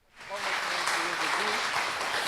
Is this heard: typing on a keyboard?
no